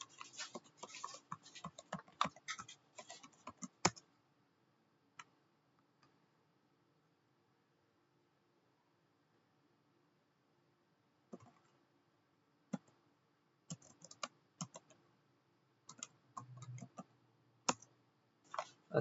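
Computer keyboard keys clicking as a Linux command and a password are typed: quick bursts of close, crisp taps in a quiet room, a long silent pause, then another run of keystrokes.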